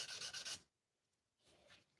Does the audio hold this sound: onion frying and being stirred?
no